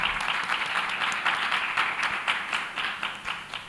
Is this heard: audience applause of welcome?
yes